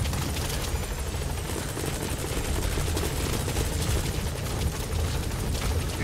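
Heavy gunfire from the Pequod support helicopter in Metal Gear Solid V: The Phantom Pain, a dense, continuous roar of rotor noise and rapid shots filling the whole stretch at steady loudness.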